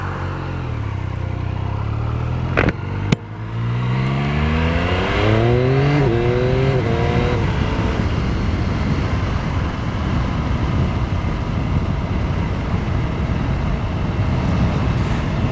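Yamaha R9 sport motorcycle being ridden, a clear engine note rising through the gears in stepped revs before settling into steady, loud cruising with heavy wind rush, close and continuous.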